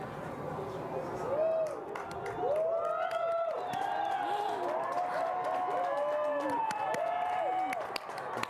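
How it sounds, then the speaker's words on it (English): A crowd watching an annular solar eclipse cheers, whoops and claps continuously, with excited voices rising and falling throughout and people talking amid the noise. "Everyone is cheering."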